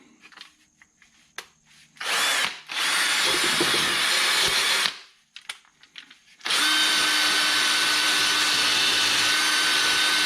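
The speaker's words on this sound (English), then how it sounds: "We're going to wire brush these journals." A drill-driven wire brush scours the glide pin journals of a caliper bracket while a stuck glide pin is being freed, running in three loud, steady bursts separated by short quiet gaps.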